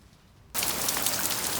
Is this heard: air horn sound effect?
no